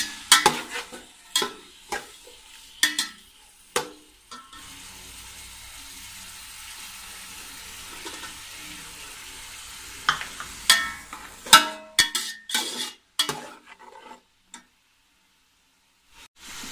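A kilo of onions drops into a hot karahi of oil for a Shinwari beef karahi gravy and is stirred with sharp metal clanks and scrapes. A steady frying hiss runs through the middle stretch before more clattering stirs near the end.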